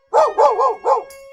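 A human voice imitates a dog, giving four quick, loud barks in a row, close by. The setting is a taunting scene at an old lady's birthday banquet.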